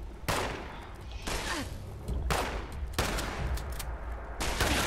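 Bursts of gunfire from a Fallout 76 session, with several loud broadband volleys at roughly one-second intervals over a continuous rumbling background, with no talk.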